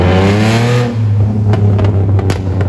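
A Ford Mustang V8 engine roars loudly nearby on a Paris street, a deep steady rev with a brief dip before surging again, with sharp crackles near the end.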